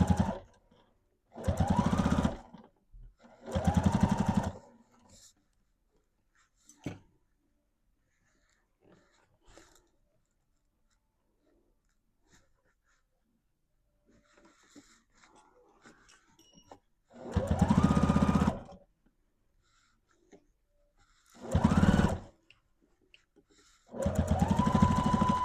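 Sewing machine stitching fabric for a witch hat, running in several loud bursts of a few seconds each with quiet pauses between, close up and alone.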